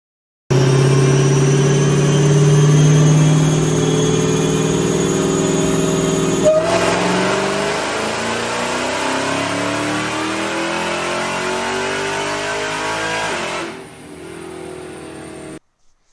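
A Dodge Hellcat with bolt-on modifications roars loudly on a dyno, the engine climbing steadily through a long wide-open pull before the revs drop and it winds down to silence.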